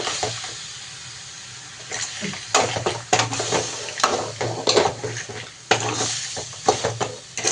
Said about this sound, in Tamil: நண்டு போட்டு நல்லா கிண்டி விட்டுக்கலாம்